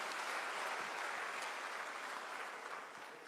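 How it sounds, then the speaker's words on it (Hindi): Sustained applause from a seated audience at an Uttar Pradesh government workshop on developing livestock breeds in India, honouring pioneering livestock farmers; dense, steady clapping throughout that fades slightly toward the end. "उन सभी किसान भाई बहनों के लिए एक बार जोरदार तालियां हो जाएं"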